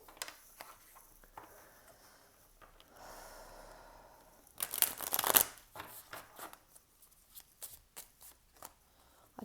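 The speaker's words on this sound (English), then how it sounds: "So we'll give these a shuffle and choose some of these as well." A deck of handmade cards with written messages is shuffled, giving one brief, close riffling burst midway, surrounded by quieter handling rustles and soft breaths.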